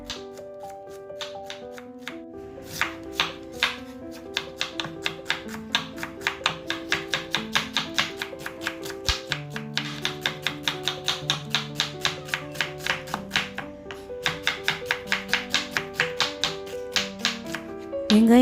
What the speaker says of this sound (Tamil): வெங்காயம் இந்த மாதிரி நீட்ட வாக்கில் கட் பண்ணிக்கோங்க.